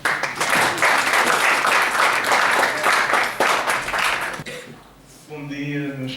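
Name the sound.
audience applause after lecture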